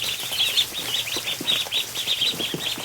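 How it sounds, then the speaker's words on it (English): Ducks shuffle and flap close by, with a busy patter of wing and body movement and soft rapid chirping peeps running steadily throughout. "Alright, we got ducks in the way."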